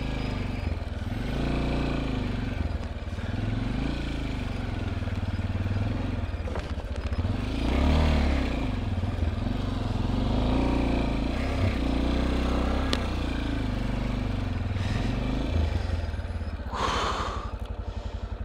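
An Italika V200 motorcycle riding over a rocky dirt road, its engine revving and surging unevenly with clattering bumps and rattles as it crawls over large stones, close and steady throughout.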